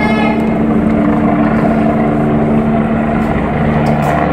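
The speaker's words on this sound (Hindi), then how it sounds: "look is a helicopter thing, look" Helicopter flying overhead at night during a Punjabi family outing, a loud, steady rotor and engine drone with humming tones filling the whole stretch, no talk over it.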